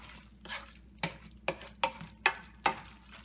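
Vegetarian stir fry pasta being stirred and tossed in a pan, giving six distinct scraping, sizzling strokes at a steady rhythm over a quiet background with no talking.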